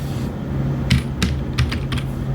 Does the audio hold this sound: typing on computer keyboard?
yes